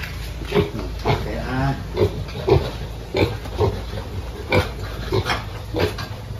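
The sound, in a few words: newly bought piglets oinking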